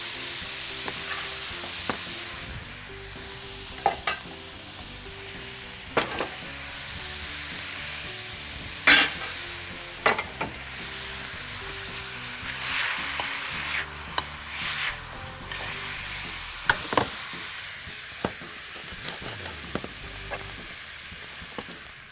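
Rice stirred and fried in a pan in an Egyptian-Italian food kitchen, steady sizzling with repeated scraping and clinking of the utensil against the pan, close and continuous, no talking.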